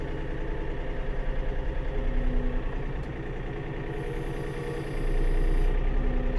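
A tractor engine idles steadily beside a sawmill, a rough, pulsing mid-low rumble that swells briefly in loudness partway through, heard close with no talk over it.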